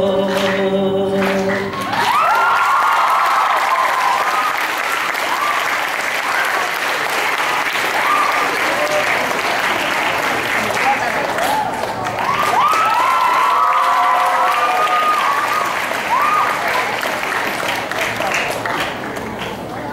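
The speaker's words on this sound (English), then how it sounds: "Let's give them another round of applause." Audience applause and cheering fill a school hall after a student holiday music performance, loud and sustained for most of the stretch, with a brief burst of singing at the start and a few shouts mixed in.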